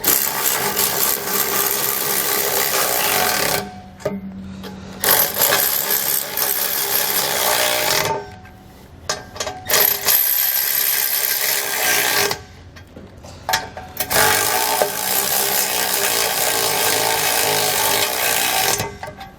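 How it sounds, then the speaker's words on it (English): A powered socket drives hitch base bolts while a B and W Companion 5th wheel hitch goes into a 2020 GMC Sierra, giving loud sustained whirring runs broken by brief pauses, close up. "Now that we have all of our bolts started, we'll come back with a 19mm socket."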